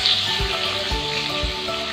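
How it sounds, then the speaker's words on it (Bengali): Onions sizzling in hot oil in a wok, a steady close hiss with small crackles and a few soft low knocks, heard alone. "তারপর পেঁয়াজগুলো সব দিয়ে দেব"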